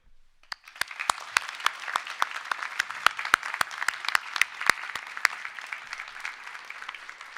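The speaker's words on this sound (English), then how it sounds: "Now please give a big round of applause for all those people here and elsewhere who have helped, inspired and encouraged you throughout your journey." A graduation ceremony audience applauds, starting from silence with a few separate sharp claps that quickly swell into full, busy applause and then thin out again toward the end.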